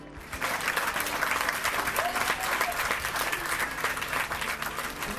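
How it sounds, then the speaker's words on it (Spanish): Studio audience applause on a Spanish regional TV variety show, a dense steady wash of clapping that swells in after a moment and holds loud and continuous throughout. "Un aplauso, por favor, para Raúl Ávila."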